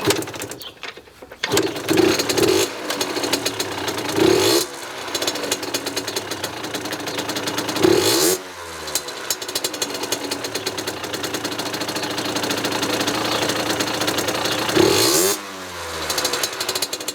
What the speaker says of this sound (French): on va démarrer la moto